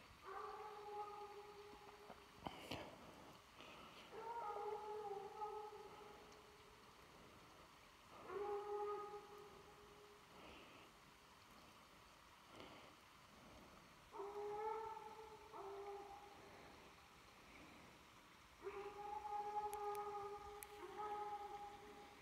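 A hunting dog chasing a raccoon howls and bays in long, drawn-out cries from a distance, repeating several times with pauses between, faint against a quiet outdoor background.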